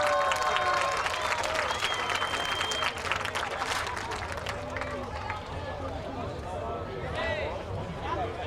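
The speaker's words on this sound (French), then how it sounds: "Encore une fois, une bonne main d'applaudissement pour le gars de Drummondville, Sébastien Goujon." Spectators at a modified-car stock race final applaud and cheer a driver from Drummondville, the clapping dense and loud at first, then thinning under crowd chatter and a commentator's voice.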